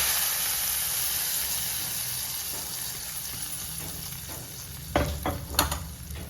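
Chili powder tempering poured into a Kerala-style shallot (small onion) curry hisses in a steady, close sizzle, with a couple of sharper bursts of spattering near the end.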